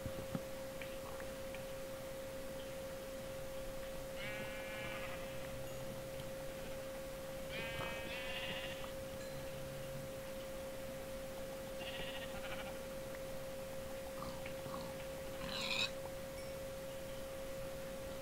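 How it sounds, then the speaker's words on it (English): Sheep in the video game Minecraft bleat several times, short faint baas spaced a few seconds apart over a steady background tone and low ambient noise. "A black sheep. Yeah, sheep come in black, gray, brown, and white now."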